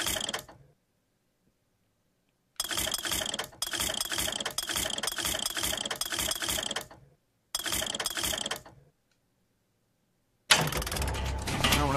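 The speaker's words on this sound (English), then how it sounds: "a vigor vending machine" A vigor vending machine in the video game Bioshock Infinite whirs and ratchets in loud mechanical clicking bursts separated by silent gaps, ending with a brighter clattering jingle.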